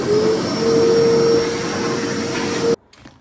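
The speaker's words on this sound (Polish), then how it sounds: "W ogóle ten odkurzacz jest mega." A cordless household vacuum cleaner runs at a loud, steady whine with a constant tonal hum while cleaning indoors, then cuts off abruptly near the end, leaving faint handling noises.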